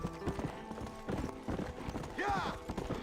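Horse hooves clip-clop steadily in the video game Red Dead Redemption, a quick rhythmic clatter close by, with someone talking over them.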